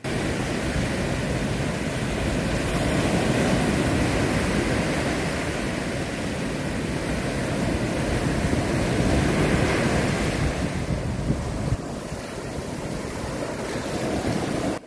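Waves rolling in on Kamala Beach in Phuket, Thailand, under an overcast sky, a broad continuous roar of surf with wind buffeting the microphone, steady and loud for about fifteen seconds with no voices.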